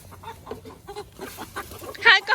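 Free-range chickens, hens and a rooster, cluck softly in a few scattered calls close by, ending in a louder squawk, while people talk nearby.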